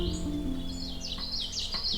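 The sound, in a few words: common yellowthroat warbler singing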